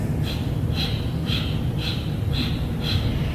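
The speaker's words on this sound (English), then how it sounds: "Through this Kapalabhati, this breath of fire," Quick, regular forceful exhales through the nose in Kapalabhati yoga breathing, about six sharp puffs in steady rhythm over a constant background hiss.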